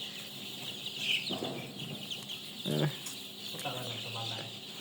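Eleven-day-old Sonali chickens cluck in short bursts at close range, with background chatter and ambient noise running throughout.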